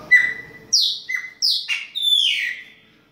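A Brazilian blackbird (pássaro-preto, baianinho type) sings close and loud, a run of bright whistled phrases and rising chirps in quick succession with short gaps, heard alone with no talk.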